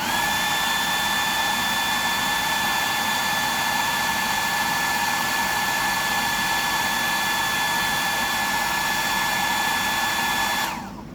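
A hair dryer blows steadily and loudly on a custom fishing lure, a continuous whining whoosh with tonal hum held up close for about eleven seconds before it cuts off at the end.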